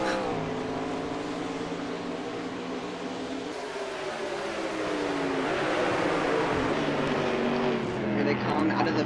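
Race cars roar through the final two turns at Watkins Glen road course, a sustained loud engine drone with shifting pitch as cars pass, under excited commentary.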